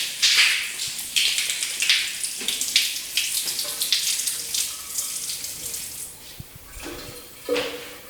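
Water runs steadily from a tap in a house, a continuous hiss with splashing changes in flow, heard alone at moderate loudness over about eight seconds.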